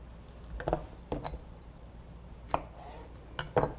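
A handheld cherry pitter punches pits from cherries in a kitchen, giving a few sharp clicking snaps in small clusters, close and moderately loud, with quiet pauses between presses and no talking.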